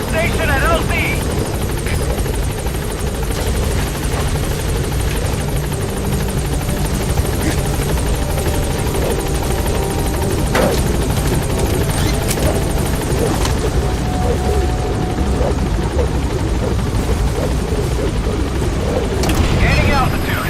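A helicopter arriving at a landing zone in Metal Gear Solid V: The Phantom Pain thrums loudly and continuously with dense rotor chop throughout, with occasional clicks and bursts layered over it.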